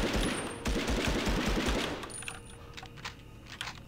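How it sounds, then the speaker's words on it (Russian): Rapid machine-gun fire in the World War II shooter game Medal of Honor: Underground, a steady burst of fast repeated shots for about two seconds that then gives way to quieter scattered impacts and game noise. "А у тебя пулемет."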